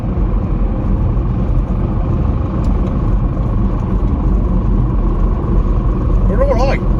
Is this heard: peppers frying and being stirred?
no